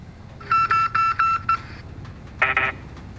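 An in-game phone in Call of Duty Warzone rings with four evenly spaced electronic tone bursts, followed after a pause by one more bright burst, clear and close with no voices.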